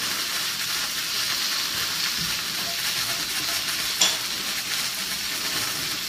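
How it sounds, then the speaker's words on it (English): Vegetables hiss and sizzle in a hot pan during the making of coq au vin, a steady bright frying sound with a small pop partway through and no voices. "Go ahead and throw them in the pan for me, Mike."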